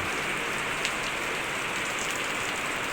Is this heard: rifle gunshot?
no